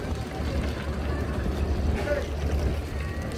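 A boat ride to Koh Phi Phi island in Thailand carries a steady low engine and water rumble with wind buffeting the microphone, and faint voices are mixed in.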